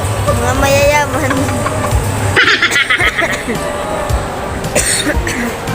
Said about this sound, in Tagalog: Ubo lang yun.